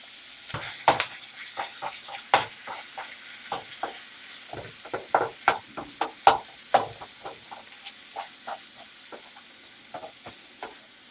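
Meat frying in a pan for bacon cheeseburger quiches gives a steady soft sizzle broken by a long run of irregular clicks and light knocks from stirring, close and moderately quiet, with no voices.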